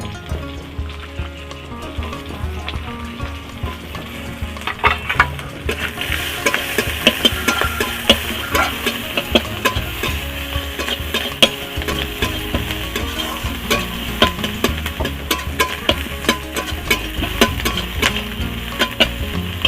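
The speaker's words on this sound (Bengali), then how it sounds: "উচ্ছাটা একটু ভাজা হয়ে গেলে আমি পেঁয়াজ কুচানো দিয়ে দিচ্ছি।" Chopped onion and bitter gourd frying in oil: a loud, close sizzle builds as the onion goes in, with persistent scraping and stirring of a spatula in the pan and crackling spatter throughout.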